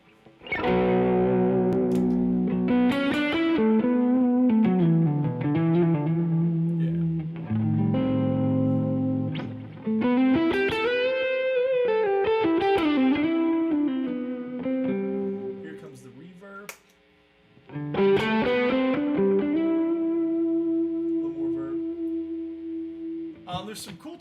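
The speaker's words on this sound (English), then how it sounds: "There's some cool tones in the reverb that are like crazy over the top" An electric guitar runs through an effects pedal with heavy, over-the-top reverb, sustained wavering notes and swelling washes ringing out loud for a long stretch, with a brief drop-off near the end before another chord rings.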